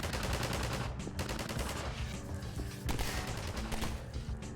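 Gunfire in the first-person shooter Half-Life 2 rattles in rapid, repeated bursts of sharp shots, loud and near, sustained across the whole stretch.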